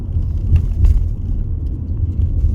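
A car driving in heavy traffic from Washington DC into Virginia, a steady low engine and road rumble heard from inside the vehicle, fairly loud and continuous with a few faint passing swells.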